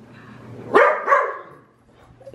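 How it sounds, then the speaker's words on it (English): A dog barks indoors, two sharp loud barks close together, then quiet with room hum and a faint start of another sound at the end. "I don't get why you're barking, because no one's here."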